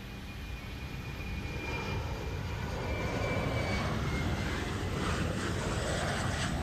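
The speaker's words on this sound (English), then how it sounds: "I wish I knew what that jet noise is." Steady roaring jet engine drone from a Boeing 777 cockpit in the PMDG 777 flight simulator game, an Emirates flight, holding loud and constant without any talk.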